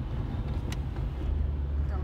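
Heavy highway traffic on I-80, heard from inside a moving car, gives a steady low road rumble with a brief passing swish, and some talk mixed in.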